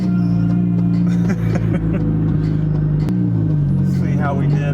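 A turbocharged Chevy Cruze heard while driving: a steady, loud low engine drone with road rumble, rising slightly in pitch near the end, continuous throughout.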